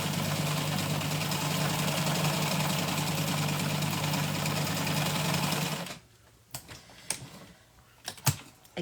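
A sewing machine runs a long basting stitch through fabric with a steady, fast, close whirring chatter for about six seconds. It then stops, leaving a few faint clicks and handling noises.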